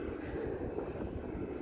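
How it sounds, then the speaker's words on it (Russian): An airplane flies overhead near the coast in Sochi, a steady, fairly faint engine drone with no other distinct sounds. "Вон самолет летит."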